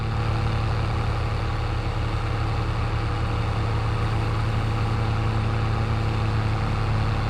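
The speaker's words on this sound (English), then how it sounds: "I do apologise for how loud this tractor is. It's so fucking loud." A tractor engine runs loud and steady close by, a constant low droning rumble with a regular throb that never lets up across the whole stretch.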